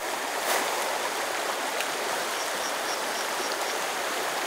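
A river rushes steadily nearby, a dense, continuous hiss of flowing water at constant loudness with no voices over it.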